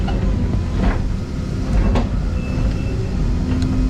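A stump grinder attachment runs steadily at close range, a continuous heavy mechanical rumble with a few faint clicks and knocks over it and no talking.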